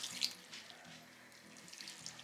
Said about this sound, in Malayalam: ഇതിലേക്ക് നമുക്ക് കുറച്ച് വെള്ളം കൂടെ ഒഴിച്ചു കൊടുക്കാം.